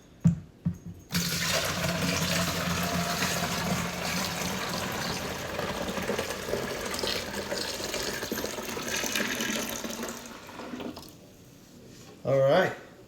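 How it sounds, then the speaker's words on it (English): Water from a sink tap runs steadily into a container being refilled for beer making, a continuous rushing stream that lasts about ten seconds before shutting off. "we're gonna refill this with just sink water"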